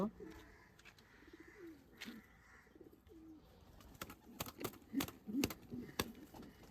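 Soft pigeon coos repeat close by in short rolling phrases, mixed with sharp knocks and clatters near the end.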